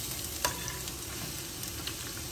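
Two large onions fry in oil for a kheema: a constant crackling sizzle, close and even, with a couple of faint stirring taps.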